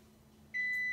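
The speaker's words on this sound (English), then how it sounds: "the alarm has gone off for the 10 minutes of the rice" A kitchen timer's steady, high-pitched electronic beep switches on halfway through and holds continuously to the end, clear and close in a quiet room.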